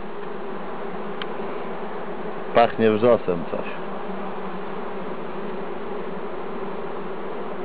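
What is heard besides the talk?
honeybees buzzing at open hive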